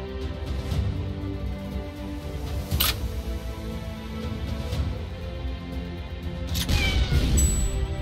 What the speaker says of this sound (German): Katze ist das Stärkste, was ich feuern kann.